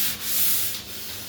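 Drywall joint compound is sanded by hand in a short, close, hissing rub that swells and eases in a couple of strokes, with no voices.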